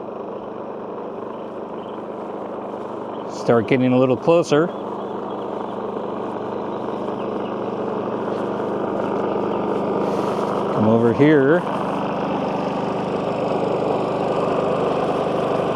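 A WEN 4800W dual fuel generator runs close by with a steady, droning engine hum that continues throughout, while someone speaks briefly over it twice.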